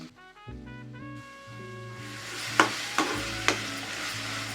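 Ground masala frying in oil for paneer pulao: after a couple of seconds of soft music, a close steady sizzle takes over, punctuated by three sharp stirring clacks in the pan.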